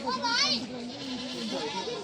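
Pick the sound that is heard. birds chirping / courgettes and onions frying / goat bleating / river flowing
goat bleating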